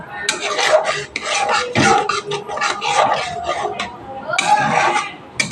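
A spoon stirs sour yogurt into white paneer gravy in a pan over a low flame, making continuous scraping, rasping strokes close by, with a voice talking over much of it.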